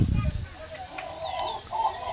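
Country chickens and roosters clucking at a village chicken market in G. Mamidada, with a few short, fairly faint clucks and calls over a soft background hum.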